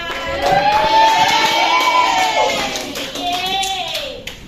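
Classroom pupils clap together in a lively burst, mixed with children's cheering and shouting, while a sustained voice rises above the noise before the clapping fades.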